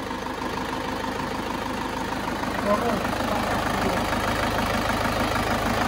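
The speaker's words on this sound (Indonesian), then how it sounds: "Oke, setelah kita setting bospomnya, sekarang coba kita starter lagi." A diesel Isuzu Panther running at idle after an injection pump adjustment, a steady low rumbling chug with an even rhythmic pulse that stays constant and close throughout.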